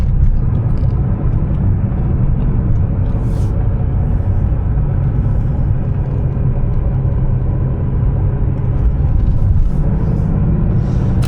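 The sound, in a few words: classic Porsche driving over a swing bridge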